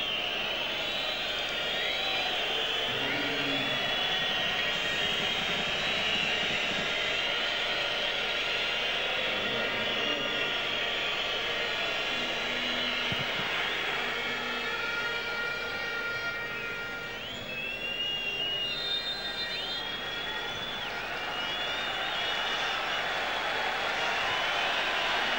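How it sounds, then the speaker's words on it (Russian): A football stadium crowd at a World Cup 2014 qualifier between Israel and Azerbaijan keeps up a loud, continuous roar with horn-like tones running through it, dipping only briefly. "Слышите, да, как развеселилась публика, как она воодушевилась?"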